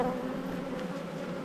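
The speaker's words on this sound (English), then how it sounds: "Lots of new bees, lots of fuzzy bees." Honeybees in an apiary hive buzz steadily and close, a dense continuous drone with no voices over it.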